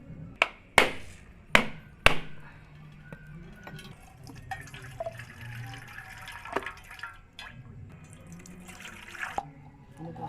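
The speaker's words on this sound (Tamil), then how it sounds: "ஸோ இந்த தேங்காவை உடச்சி இந்த தண்ணியை தான் நம்ம யூஸ் பண்ண போகிறோம்." A coconut is cracked open with several sharp hard knocks, followed by its water splashing and trickling into a vessel in a steady watery run with occasional drips, close by.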